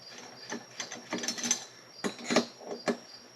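Wrench loosening bolts on a 550 Mark II cylinder of an RC engine, a series of quiet, close ratcheting clicks and metallic ticks in short irregular bursts with brief pauses between.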